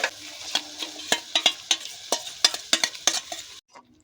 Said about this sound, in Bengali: এবার আমরা এর মধ্যে দইটাকে দিয়ে দেবো, ফাটানো দইটাকে দিয়ে দেবো